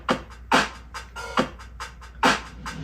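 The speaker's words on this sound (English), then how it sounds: "Here's the drums." Simple, dry drum kit in a song, with sharp kick and snare hits in a steady, sparse beat and light fills between them, close and unprocessed.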